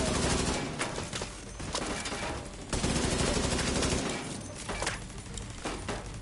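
Rapid automatic turret fire in The Division 2 co-op game, loud sustained bursts of gunfire with brief gaps, filling the whole stretch with no talk.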